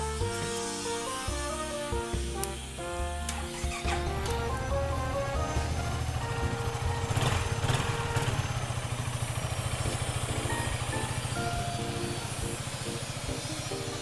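A 2017/18 Yamaha XMAX 300 scooter engine runs close by, rattling and idling steadily, with a couple of throttle blips early on before settling into an even mechanical clatter.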